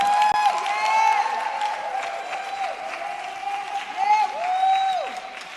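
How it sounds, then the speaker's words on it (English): Congregation applause at Fellowship Chapel, a sustained round of clapping from a crowd with some sustained tones sounding through it. "I would like you to give a rousing applause for my sister in the vineyard"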